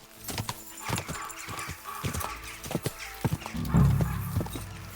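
Video game hooves clop in a quick, uneven galloping rhythm, close and clear, with a horse whinnying briefly near the end.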